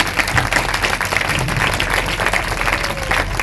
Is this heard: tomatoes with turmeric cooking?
no